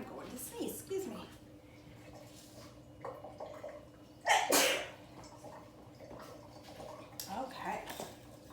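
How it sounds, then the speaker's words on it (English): A single close sneeze bursts out midway through in a kitchen while fritters are being prepared, with quiet talk and handling noises before and after. "I'm going to sneeze, excuse me."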